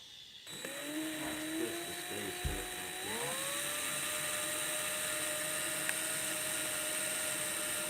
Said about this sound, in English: I smell the ozone in this drill.